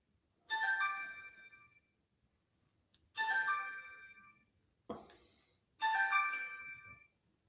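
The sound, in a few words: phone ringtone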